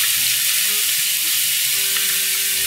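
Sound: garlic and onions frying in a pan

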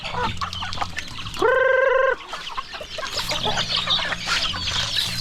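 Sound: free range chickens and hens clucking

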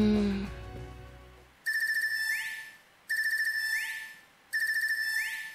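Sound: ARCUS 2 ringtone in Trails of Cold Steel III video game

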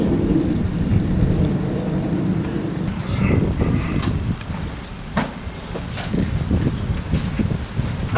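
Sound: rain and thunder

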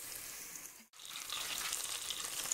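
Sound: seasoning frying in a pan, garlic and colorau

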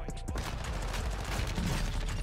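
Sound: MP5 gunfire in video game Warzone 2

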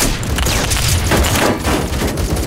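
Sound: shotgun shots in video game Phantom Forces

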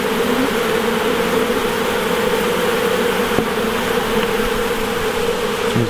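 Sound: honey bees buzzing during hive inspection

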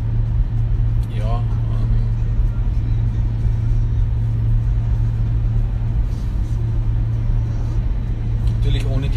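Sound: Renault ZOE tyre rolling noise on new asphalt

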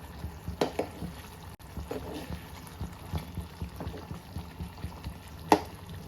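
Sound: drumstick curry boiling in a pot

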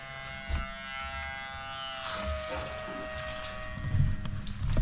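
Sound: bilge pump running in water

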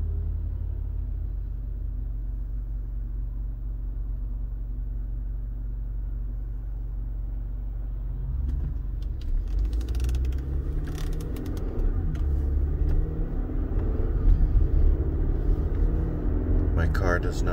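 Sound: car interior driving rumble

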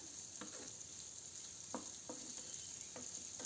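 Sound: onion frying in a pan

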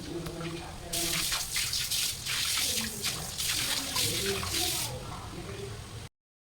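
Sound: water running from a tap while washing vessels

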